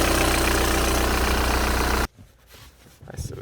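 A Volkswagen engine idles loudly and steadily for about two seconds, then cuts off abruptly, leaving quieter background noise.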